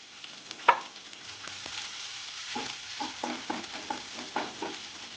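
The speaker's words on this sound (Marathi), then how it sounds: "याच्यामध्ये आता तेल टाकत आहे। जिरं तळून" Cumin and garlic frying in hot oil while being stirred, for a dhaba-style spinach dish. A soft, close sizzle runs under a series of light stirring scrapes and taps, with no talk.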